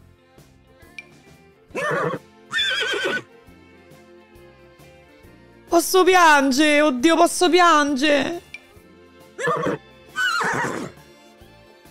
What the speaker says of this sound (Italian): Raga, i cavalli, ma stiamo a scherzare se possono fare i cavalli.